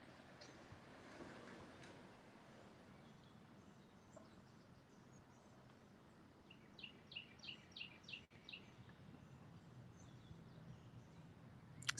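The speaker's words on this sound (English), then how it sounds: "It's nice to come out and hear the birds." Quiet open-air ambience, then a brief run of soft, distant bird chirps partway through.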